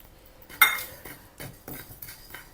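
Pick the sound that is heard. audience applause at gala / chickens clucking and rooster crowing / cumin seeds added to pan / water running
cumin seeds added to pan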